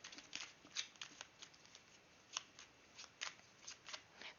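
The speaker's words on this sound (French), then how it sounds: "Allez, je remélange, tiens." Tarot cards being shuffled by hand, a run of soft papery riffles and flicks in uneven bursts, close and fairly quiet with no talk.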